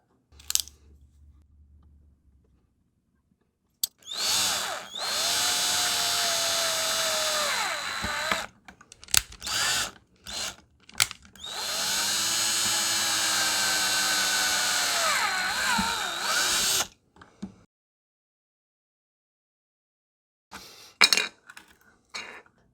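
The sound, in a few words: drilling holes in gel blaster plastic housing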